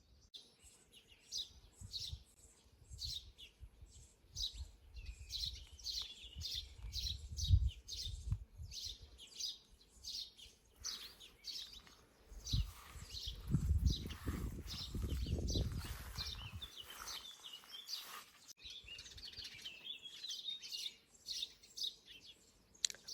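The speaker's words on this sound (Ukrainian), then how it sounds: "Обожнюю слухати спів пташок" Small birds chirp and sing outdoors in a garden with hollyhocks, with quick repeated tweets going on throughout, fairly faint, over soft rustling and low bumping noises in the middle of the scene.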